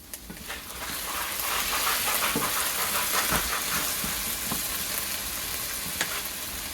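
Potatoes fry in a hot pan with a loud, dense sizzle and crackle, interrupted by scraping and stirring clicks at close range, and no voices.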